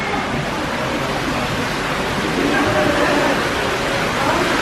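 An indoor stream flows through the lobby of Disney's Wilderness Lodge, a continuous broad rush of running water heard up close with voices in the background.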